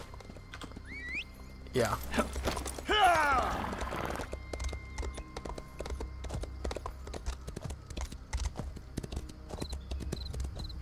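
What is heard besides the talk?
horse hooves galloping in video game Elder Scrolls Online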